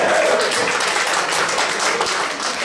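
Applause for former class presidents at a high school 40th-anniversary reunion, a dense, sustained wave of clapping from a crowd, steady and fairly loud throughout with little else audible.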